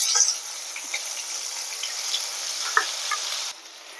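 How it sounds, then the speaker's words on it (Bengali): Boiled onion paste dropped into hot oil with dried chilli and cumin, a soft steady sizzle with a few faint ticks and pops, close and quiet, dropping slightly near the end. "এবার আমি সিদ্ধ করে নেওয়া পেঁয়াজের পেস্টটা দিয়ে দেব।"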